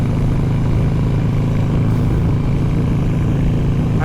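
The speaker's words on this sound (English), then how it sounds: "I hear the wind, but it's still manageable." Steady roaring wind rush inside a car cruising at about 110 km/h in fifth gear with a roof box fitted and an open exhaust, a continuous dense drone with low engine rumble throughout.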